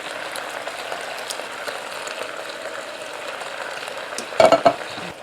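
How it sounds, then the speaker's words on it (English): Diced tomatoes with garlic and olive oil tip into a bison stew in a Cosori multi cooker, giving a steady soft sizzle and stirring, with a brief louder clatter of utensil near the end. "I'm adding the diced tomatoes with the garlic and olive oil."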